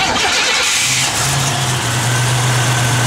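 A 1986 Buick Regal T Type with its stock Garrett turbo engine cranks and catches, then settles into a steady, close, loud idle with a low drone that holds to the end.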